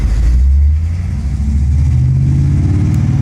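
Pontiac Trans Am engine revving, a loud, deep rumble that builds and climbs steadily in pitch, heard close and without voices over it.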